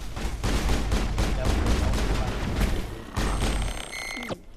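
Rapid gunfire in Mass Effect, with Ashley blazing away in the middle of a firefight: dense, loud, continuous volleys of shots with a final sharp electronic sweep near the end.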